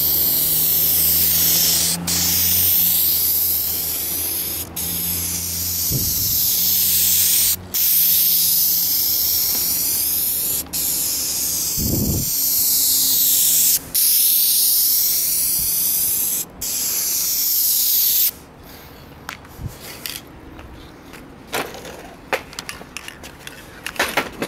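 Aerosol spray can of Dupli-Color Perfect Match paint hissing steadily as a final coat goes onto a car in a home shop, long continuous bursts with short pauses, ending in scattered handling noises.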